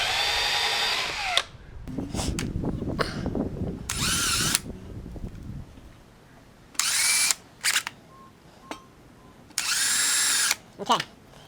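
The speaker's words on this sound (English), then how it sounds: "Just taking a standard drill bit, just like this, and just really carefully drilling out each one of these." Bursts of a power drill with a standard bit whirring in short, loud runs with pauses between, drilling out rivets on a motorcycle muffler, plus clinks and scrapes of metal work close by.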